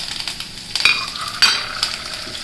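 Curry leaves and red chili hitting hot til oil for a tomato pickle, sizzling and crackling up close with a couple of sharper spurts as the pan is stirred, no voices.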